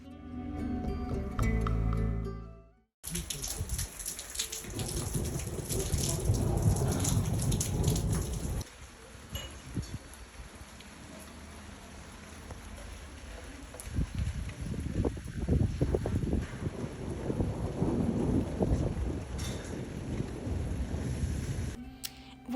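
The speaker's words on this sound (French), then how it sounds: "on est revenu avec un orage. Il était violent, mais il n'a pas duré longtemps." A short, violent thunderstorm in Algeria: heavy rain pours steadily on surfaces, while low thunder rumbles and rolls beneath it, loud and close throughout after a brief opening of other noise.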